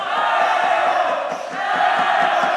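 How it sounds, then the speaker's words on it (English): A basketball crowd at a junior league playoff game jeers a player at the free-throw line, a dense, loud, steady roar of many voices throughout. "And the crowd giving him a hard time, but seems like he's unfazed."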